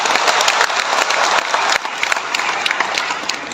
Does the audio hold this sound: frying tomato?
no